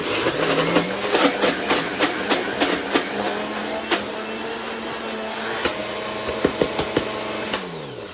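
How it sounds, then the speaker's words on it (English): A kitchen blender whirs through cottage cheese with a loud, steady motor whine. It starts up with a series of sharp pulsing bursts, then runs continuously and stops near the end. No talking. "I'm gonna blend it."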